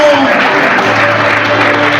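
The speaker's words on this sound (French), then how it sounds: "Applaudissements mesdames et messieurs pour nos trois champions." Steady, dense applause from an audience at a children's book fair in Libreville, honoring three reading contest champions; a loud, continuous wash of clapping that holds evenly throughout.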